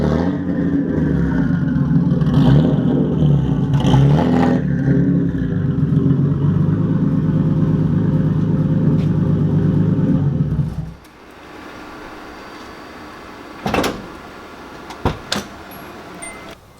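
A turbocharged STI car engine runs loud and close with a rough idling rumble, then cuts off around eleven seconds, followed by a quieter tail with a few brief clicks and a short whoosh.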